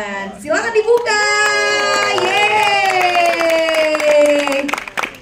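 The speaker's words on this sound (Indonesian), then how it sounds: "Tepuk tangan dulu dong" A crowd at an Indonesian film poster reveal event claps and cheers, with tonal music or a jingle playing loudly over the clapping and voices throughout.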